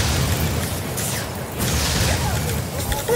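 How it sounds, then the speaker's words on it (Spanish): Gyrocopter firing a missile and rockets in Dota 2: a dense flurry of booming, popping explosions bursts continuously through the short stretch, loud and close, with someone speaking over them. "Toma, misil. Toma, cohetes."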